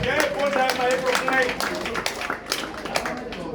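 An outdoor audience in the Divo region claps for a chief, with sharp, irregular bursts of hands close by and raised voices mixed through the applause.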